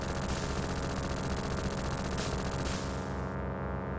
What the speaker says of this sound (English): just fill the sky with as many bullets as I can